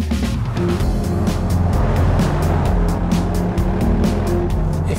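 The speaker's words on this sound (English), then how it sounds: "If you extend the car, it sounds great," A Jaguar XF driving at speed, its engine giving a steady, powerful hum under loud road and tire roar, continuous and close for the whole stretch, with no talk.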